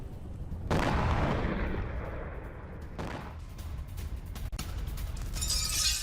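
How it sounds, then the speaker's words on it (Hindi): Heavy bombing during a drone strike in Voronezh, Russia: two loud booming blasts a couple of seconds apart, each followed by rumbling debris and crackle, with a lingering roar afterward and no voices. "और वहीं रूस के वोरोनेज में भीषण बमबारी हुई है।"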